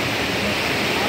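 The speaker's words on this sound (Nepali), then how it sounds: "यो चाहिँ खर्दु खोला हो यो खर्दु खोला एकदमै सङ्ग्लो छ" The Khardu river stream flows as a steady, loud broadband rush of water close to the microphone, constant and unbroken over the brief moment, with no voice heard.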